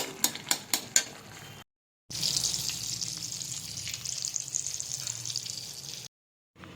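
Eggplant slices frying in a pan give a steady, moderately close sizzle for several seconds, preceded by a few sharp clinks and cut by brief silent gaps.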